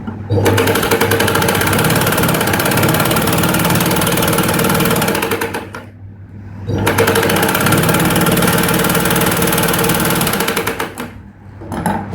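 A sewing machine stitching a blouse belt runs in fast, loud whirring bursts. It stops briefly near the middle and again close to the end, then starts up again each time.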